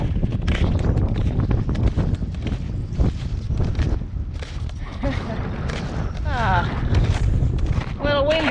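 Gusty wind buffets the microphone on a mountain trail, a constant rough roar beneath a person talking and faint footsteps.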